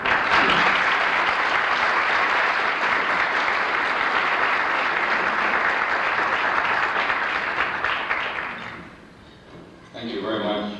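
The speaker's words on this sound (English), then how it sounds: "Would you please give a round of applause for Dr. Roberto" Audience applause at a scholarship foundation event in a hotel: loud, sustained clapping that fades out near the end, after which a voice starts speaking.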